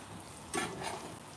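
Eggy bread sizzles faintly in a pan, with a sudden louder hiss and clatter midway as a slice is turned over, then a steady soft fry continues.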